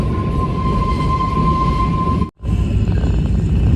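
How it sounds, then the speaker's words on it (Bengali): The Kalka–Shimla toy train, the Shivalik Deluxe Express, rumbles steadily while climbing uphill on the mountain line, a loud continuous rolling roar with a steady whine, briefly cut by a sharp drop in sound midway. "ওই যে নিচে টয় ট্রেনের লাইন ওই লাইন দিয়েই আমরা ক্রমশ উপরে উঠছি"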